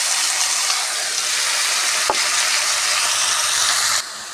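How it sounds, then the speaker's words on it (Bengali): Khesari greens stirred into fried potatoes and beans in a pan, a loud continuous hiss of oil and steam with one sharp utensil clack midway, the sizzle dropping off abruptly near the end, no talk. "শাকটা নেড়ে চেড়ে মিশিয়ে নিয়েছি।"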